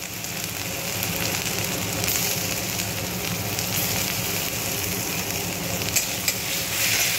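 Whole spices, garlic, ginger and dried red chilies tempering in hot oil in a pan, giving a loud, steady crackling sizzle throughout with no speech.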